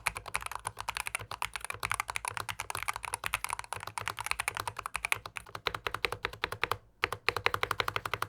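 Steady, fast typing on a Hall effect gaming keyboard with tuned stabilizers, silicone spacebar dampener and foam inserts: a loud, thocky run of close keystrokes in quick irregular rhythm, with a brief pause near the end.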